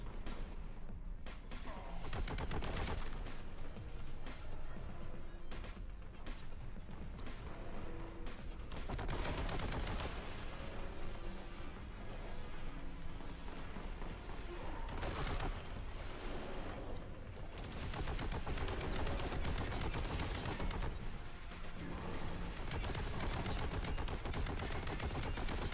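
Dense, rapid gunfire from the shooter game Warhammer 40,000: Boltgun rolls on without a break, with heavy bolter bursts, blasts and gory impacts stacking into a loud, constant barrage.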